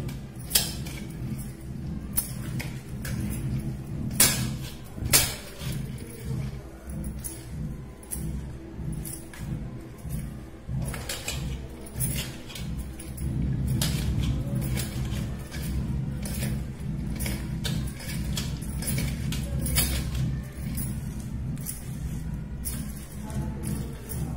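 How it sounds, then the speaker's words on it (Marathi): Vegetable Manchurian mixture of chopped vegetables, ginger, garlic, chilli and salt being stirred in a bowl, giving steady close tapping and scraping clinks of utensil against the dish, with no talking. "आता हे संपूर्ण साहित्य व्यवस्थित हे मिक्स करून घेते मी"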